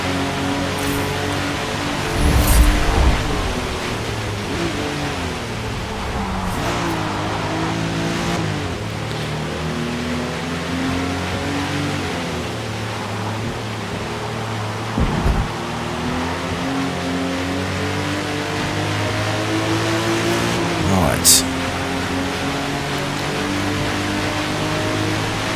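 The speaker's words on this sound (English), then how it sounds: "Hear the rain hammering on the car." Rain drums hard and steadily on a car in Forza Motorsport, a constant hiss layered over the droning engine, which rises and falls with a few louder bursts of revving and shifting.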